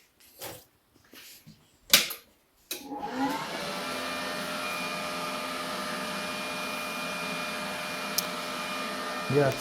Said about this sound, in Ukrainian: А зараз я це все обварю. Ось таким напівавтоматом.